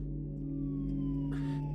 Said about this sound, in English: Yes, those are definitely sirens.